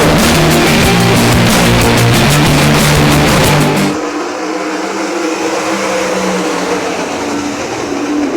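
Race cars roar off the line at Ohsweken Speedway during a GLSS/SOS heat, a loud, dense engine blare that drops abruptly partway through to a steadier, more distant drone.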